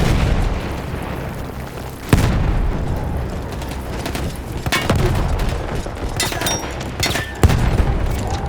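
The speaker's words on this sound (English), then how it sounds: "That explosion was one of the sweetest sights of the war for me." A large gun blown up in a World War One Italian Alps battle game erupts in loud booming blasts, with several heavy bursts and rumbling aftershocks spread across the scene, no voices over it.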